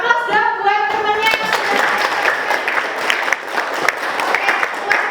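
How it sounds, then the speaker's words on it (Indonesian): A class applauds a group of students after their presentation, a brief voice opening into steady, lively clapping from many hands that carries on for several seconds. "Oke, aplaus dong buat temannya."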